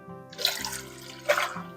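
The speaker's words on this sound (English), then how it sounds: "in a large pot, I'm going to place 8 cups of water" Water pours into a large cooking pot, eight cups in all, with a soft steady stream and a couple of louder splashing surges, close and fairly quiet, with no talking.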